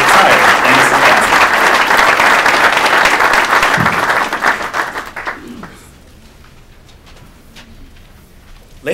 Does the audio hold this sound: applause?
yes